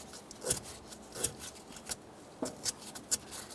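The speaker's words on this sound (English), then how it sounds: "For this, I'm just using some fine sandpaper and a clean rag." Fine sandpaper and a rag scrub an upper steering shaft on a 2004-2008 Ford F-150, producing soft, close, intermittent scratchy rubbing strokes in short irregular bursts.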